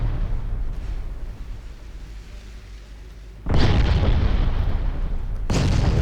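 Naval gunfire and shells bursting on hits in the warship game Ultimate Admiral Dreadnoughts, a low rumble followed by two loud, broad explosive booms about two seconds apart.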